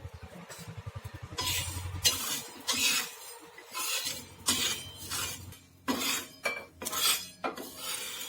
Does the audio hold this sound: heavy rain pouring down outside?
no